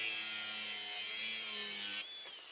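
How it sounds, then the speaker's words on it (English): An angle grinder cuts off part of the passenger-side seat swivel base in a Ford Transit van: a loud, steady, high grinding whine that stops abruptly near the end, leaving a fading spin-down tone. "So I'm going to have to cut this off with my grinder."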